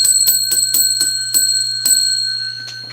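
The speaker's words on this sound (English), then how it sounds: "I ring the bell 10 times when we get 100 thumbs up" A hand bell rung repeatedly in quick bright strikes, each leaving a steady metallic ring that overlaps the next, slowly fading toward the end.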